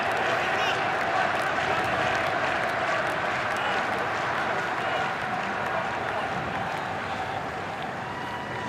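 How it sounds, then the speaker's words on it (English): A football stadium crowd at a Lebanon versus Djibouti Arab Cup qualifier rises in a standing ovation, a sustained dense wash of applause and cheering that holds steady throughout, with a commentator talking over it. "And he gets a standing ovation from the crowd"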